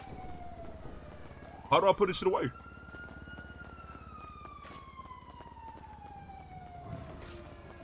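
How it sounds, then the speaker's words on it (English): Police sirens in the GTA game, a rising and falling wail running steadily through the whole stretch at moderate level, with someone talking briefly over it. "I hear sirens."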